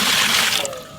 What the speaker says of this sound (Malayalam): നമുക്ക് വെള്ളം ഒഴിച്ചെടുക്കാം